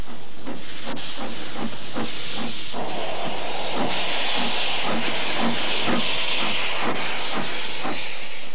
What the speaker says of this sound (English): Alternative to flying, or climbing, is to go on the small steam railway,